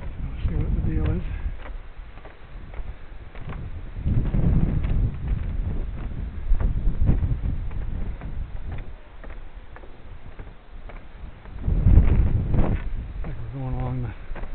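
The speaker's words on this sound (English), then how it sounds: "Blast of wind as we get up here" Gusts of wind buffet the microphone on an exposed rocky coastal clifftop walk, rising in broad rumbling blasts and easing off, with voices heard intermittently under the wind.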